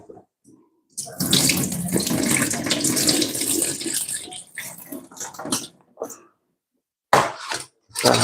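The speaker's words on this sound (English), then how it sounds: "Let's rinse off these garlics." Garlic cloves rinsed under a running kitchen tap, water gushing into a sink loudly and close for several seconds, then stopping and briefly starting again with handling splashes.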